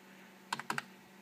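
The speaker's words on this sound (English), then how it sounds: "Love that keyboard." A few quick keystrokes on a computer keyboard at a Linux PC during a CPU upgrade, four crisp clicks in a tight burst, close and alone against a low hum.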